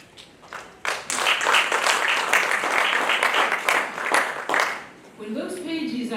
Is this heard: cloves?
no